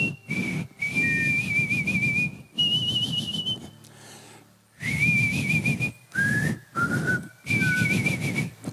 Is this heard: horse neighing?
no